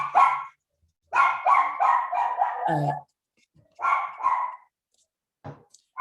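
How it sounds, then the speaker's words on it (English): A pet dog barks close by in two or three bursts of sharp, rapid barks with short gaps of silence between them. A voice speaks briefly between the barks. "my doggie is barking"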